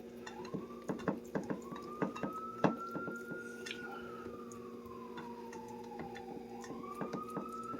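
A siren wails in a slow rising and falling sweep at moderate distance, accompanied by scattered dripping and tapping sounds close by.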